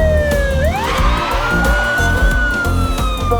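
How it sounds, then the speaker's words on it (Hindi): A loud wailing ambulance siren sweeps upward and holds a high tone, close by over a low rumbling engine. "पीछे से एम्बुलेंस आ रही है"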